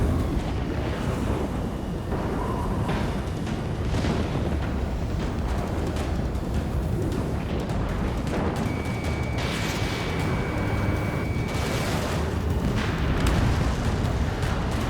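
Missile explosions in the Ace Combat 7 air-combat video game, heard as continuous dense rumbling blasts and bursts with a thin whining tone partway through, loud and unbroken throughout.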